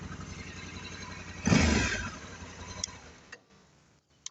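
Honda Africa Twin 1100 DCT motorcycle engine idling close by with a brief blip of revs that swells then fades, followed by a few sharp ticks and clicks as it settles.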